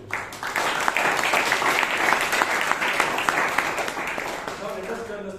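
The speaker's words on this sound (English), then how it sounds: "Let us give a lot of applause to Toastmasters" Audience applause at a Toastmasters club meeting in Bangalore, loud continuous clapping from a roomful of people with sharp individual claps standing out, easing slightly as a voice comes in near the end.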